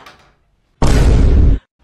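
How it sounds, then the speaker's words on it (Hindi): A door bangs once at a home, a single loud, abrupt burst that sustains briefly as a noisy rumble before cutting off, preceded by faint low sound and near silence. "दरवाजे की आवाज आ रही, जाओ खोलो दरवाजा"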